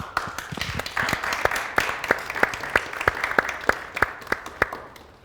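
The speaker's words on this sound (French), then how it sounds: "Merci d'applaudir très fort pour vous-même." A crowd applauds at a televised festival event, scattered sharp claps layered over a denser ripple of hands, moderately loud and continuing for several seconds.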